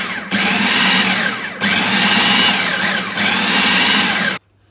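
A food processor pulses a veggie burger mixture seasoned with sea salt, running in three loud, steady motor bursts of about a second and a half each with brief gaps between them, then cutting off abruptly.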